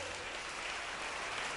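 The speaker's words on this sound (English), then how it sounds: "Let's clap for Jesus for that." Brief, faint burst of audience clapping at a fish-farming seminar, a dense wash of hands with no voices.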